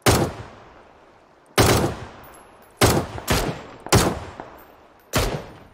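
Gunfire in PUBG: about six loud, separate shots at uneven gaps, each cracking sharply and then ringing out in a long echoing tail, with no talk over them.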